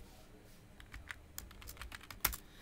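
Keys on a computer keyboard are tapped in an irregular run of quiet clicks, close up, ending with a slightly sharper keystroke.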